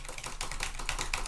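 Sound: typing on a computer keyboard and clicking a mouse

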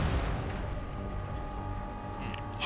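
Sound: explosion in the video game Warhammer 40,000 Dawn of War 3

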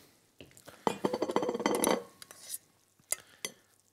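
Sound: spooning mashed potato puree onto a plate

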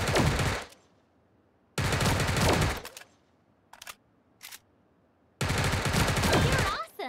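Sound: gunfire in the video game Sausage Man

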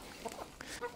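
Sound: chickens clucking while being fed corn

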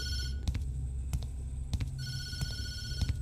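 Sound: telephone ringing in the video game Tattletail

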